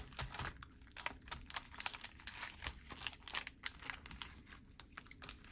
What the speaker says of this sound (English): Let's give these a shuffle, though, these set boosters.